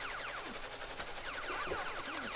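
Fast shooting and explosion effects from a Pixelcade arcade-style video game play continuously, with repeated zapping sweeps and blasts at a steady moderate level and no talking.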